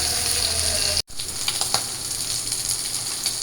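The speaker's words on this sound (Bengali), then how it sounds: "তো মাছগুলো ভাইজা নিই।" Fish sizzles loudly in a hot pan, a dense crackling hiss that drops out for a split second and then resumes with scattered sharper pops.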